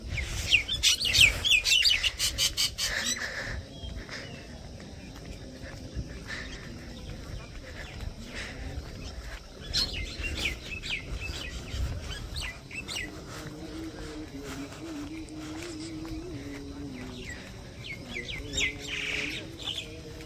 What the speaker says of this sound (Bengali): সকাল সকাল শালিক পাখি বের হয়ে গেছে।